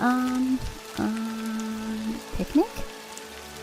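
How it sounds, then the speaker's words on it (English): Steady rain falls on an awning over a school bicycle parking lot, a soft continuous patter beneath brief talk and some musical tones. "It was raining."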